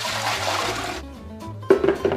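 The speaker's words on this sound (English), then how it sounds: "I'm gonna start by placing the water in the mixer." Water pours into a dough mixer bowl for a 50% whole wheat sourdough, a short splashing gush that fades, then a brief sharper splash near the end.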